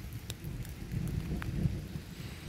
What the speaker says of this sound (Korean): 들리십니까? 천둥 소리